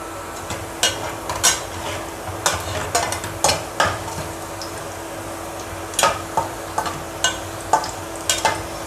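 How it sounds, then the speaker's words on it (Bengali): Onion, garlic and cumin seeds frying in oil in a cooking pot, a steady sizzle punctuated by repeated clanks and scrapes of a utensil stirring against the pan, close and fairly loud. "রসুন জিরা আর পেঁয়াজ একটু গোল্ডেন ব্রাউন করে ভেজে নিলাম"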